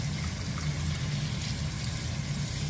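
Cold tap water runs over cooked meat as it is rinsed, a steady, even hiss and splash of flowing water that carries on unchanged throughout.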